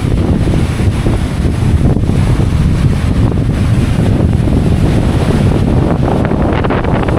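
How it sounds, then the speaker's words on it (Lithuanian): Strong wind buffets the microphone over the steady roar of rough Baltic Sea waves off Hiiumaa island, Estonia, loud and continuous throughout. "Va kaip jūra įsisiautėjo."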